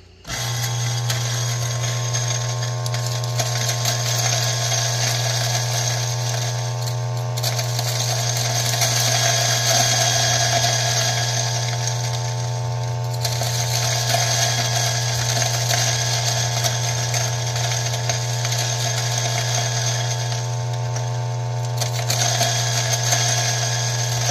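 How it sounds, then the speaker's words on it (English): An electric coffee grinder grinds beans fine for pour-over, a steady loud motor whine with a low hum that runs continuously for over twenty seconds, with slight rattling variations and no talking. "I'm pretty fine on this Giardia grinder"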